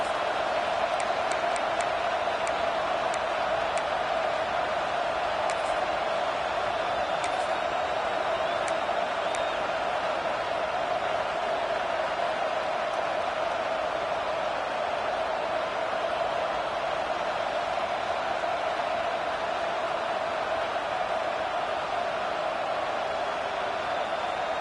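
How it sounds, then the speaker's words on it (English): Steady roar of a college football stadium crowd at a Nebraska game, sustained and loud throughout as fans cheer on the defense for a third-down play, with no break in the noise. "Decibels rising as the crowd gets behind this defense on third down."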